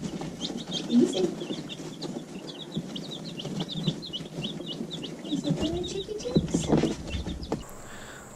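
Backyard chicks in a warm brooder peep steadily in a busy chorus of short high chirps, close by, with occasional soft clucks and rustling underneath.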